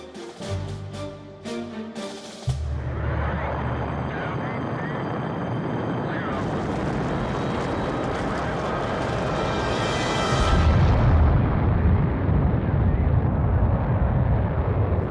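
The experimental Vanguard rocket, the US answer to Sputnik, explodes into a fireball during a failed launch: a loud, sustained broadband roar and rumble that swells heavier toward the end.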